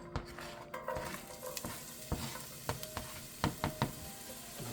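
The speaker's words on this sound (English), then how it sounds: "so I'm just going to throw in the onions." Onions drop into a hot Dutch oven and sizzle, a steady hiss beneath a series of sharp clacks and scrapes of a utensil against the pot.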